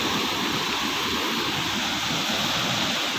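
Water flows in a steady, loud broadband rush after very heavy overnight rain, continuous and even with no voices.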